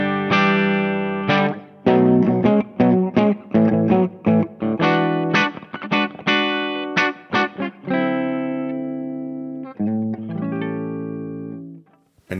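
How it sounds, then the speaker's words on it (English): Electric guitar through a HangmanFX Lord GermFet dual overdrive pedal plays a series of gritty, sustained chords and notes, loud and close, with short gaps between phrases. "We've got guitars through the pedal."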